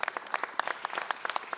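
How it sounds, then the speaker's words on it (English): Applause at a city council meeting, a small group clapping in a scattered, uneven patter of separate hand claps at moderate distance, with no voices over it. "Let's give them a round of applause."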